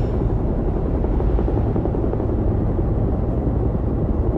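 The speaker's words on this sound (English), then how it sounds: "Boss sends his own private helicopter to get an agent back." A private helicopter flies in a cutscene from the video game Beyond: Two Souls. It makes a loud, steady, low rotor and engine drone that stays constant throughout, with no voices over it.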